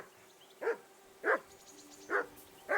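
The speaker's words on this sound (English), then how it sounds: "damn dog of yours barking. Can you sort him out?" A dog in the video game Kingdom Come Deliverance 2 barks four times at even intervals, each bark short and sharp, set against a quiet background.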